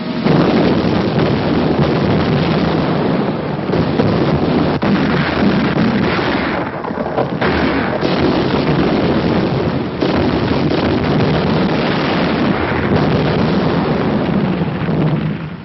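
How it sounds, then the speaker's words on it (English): Heavy, continuous booming blasts of Japanese naval gunfire in the Battle of Shanghai roll on with a rushing, wind-like roar, loud and dense throughout with a brief dip midway. "where they could secure some protection from the heavy Jap naval gunfire"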